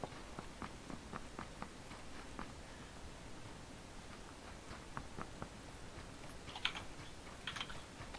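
Fast keyboard typing during a PUBG gaming session, a steady run of soft, light key clicks that picks up with a few sharper, louder taps near the end, fairly quiet and close with no talking.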